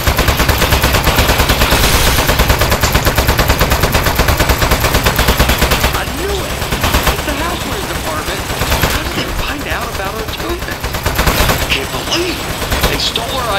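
Rapid machine-gun fire from a turret in the Aperture Desk Job video game, dense continuous bursts that are loud and close, easing into more scattered shots and clatter later on.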